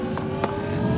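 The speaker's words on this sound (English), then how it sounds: "Activating main engine." A main engine rumbles steadily in a video game, a loud sustained mechanical drone with a few brief bursts layered over it and no voices.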